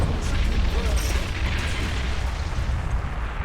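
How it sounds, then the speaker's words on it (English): A big rock bursts apart in a huge explosion in the space battle game Battlefleet Gothic Armada 2, a heavy, rolling low boom that rumbles loudly and fades slowly. "And that big rock exploding"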